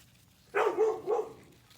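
Dogs bark in a short burst of two or three barks, a little way off across a vegetable garden among tomatillo plants, set against quiet background hum.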